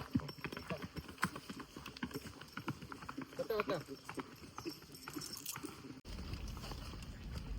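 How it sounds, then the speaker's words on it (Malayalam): A horse carrying a rider through forest in Wayanad, its hooves clip-clopping in an uneven, fairly close rhythm beneath a person's talking. "കാട്ടിനുള്ളിൽ കൂടെ കുതിരേനെ ഓടിച്ച് വരുന്ന സമയത്ത്"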